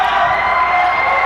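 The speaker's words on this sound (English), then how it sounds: "That brings the crowd alive." A basketball crowd roars and cheers after a slam dunk at a 1996 high school tournament game in Winnipeg, a loud, dense wall of voices sustained throughout the brief moment.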